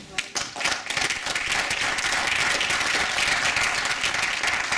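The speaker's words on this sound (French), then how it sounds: "Donc on peut encore les applaudir" Hackathon teams get a round of applause after their pitches: a crowd claps steadily and densely for several seconds after a brief ragged start, with some talk mixed in.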